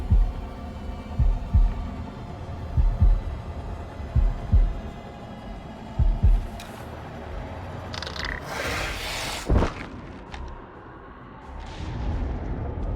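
Heartbeat thumps during the heartbeat challenge in the House of Ashes video game: deep, low throbbing beats in irregular pairs and singles, with a heavy rumbling hit and whooshing game effects later.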